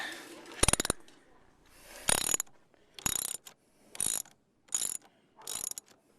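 A hand tool works loose the battery terminal connections on a 2008 Pontiac Solstice GXP. It gives six short, loud ratcheting bursts spaced about a second apart, with quiet gaps between them and no talk.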